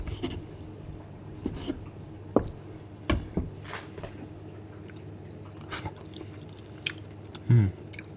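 Chewing marinated salmon close up, with a few soft bites and wet, squishy mouth sounds spread irregularly over a quiet room hum.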